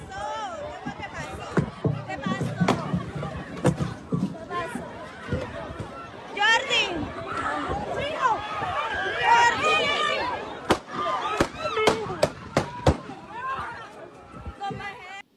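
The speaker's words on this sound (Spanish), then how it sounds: "pongan atención al sonido de no solamente los gritos, sino que además de los disparos" At an outdoor party, a crowd chatters and shouts in agitated babble while a series of sharp, cracking gunshots rings out, several in quick succession near the end.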